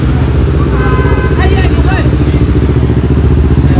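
A motorbike engine runs continuously while riding along a street, loud and close with a steady drone and some rattling clatter throughout.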